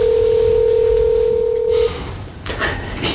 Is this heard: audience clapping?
no